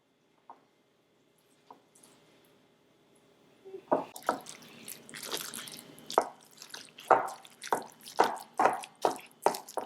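Spatula mixing a meatball filling of minced meat with ginger and oyster sauce in a bowl, a few sparse wet taps at first, then a run of repeated squelching, slapping strokes that grow louder.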